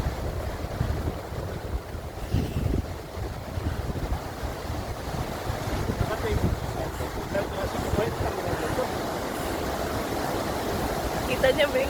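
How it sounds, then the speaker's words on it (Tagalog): Strong wind roars steadily on a wooded pathway near a waterfall in Quebec, a continuous broadband rush with low gusty rumble, while a voice talks over it now and then. "Sobrang lakas ng hangin."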